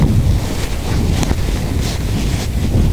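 Strong wind buffets the microphone in heavy, gusty rumbles, with the wash of water faintly underneath; no voices.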